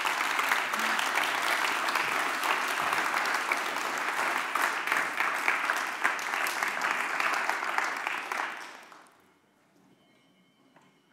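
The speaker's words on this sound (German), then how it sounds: "Bitte Applaus für Janis McDavid." Audience applause at a Bavarian digital summit, a full, sustained wash of clapping from a large crowd that runs about eight seconds and then drops off quickly into near silence.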